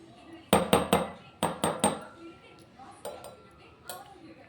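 A metal spoon clinks against a bowl while a quarter spoon of kasturi turmeric powder is added, two quick bursts of three sharp taps each, then a few softer scattered clinks.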